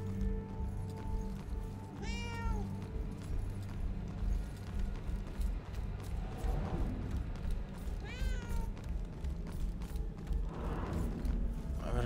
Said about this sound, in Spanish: ¡Gatete! ¡Miau!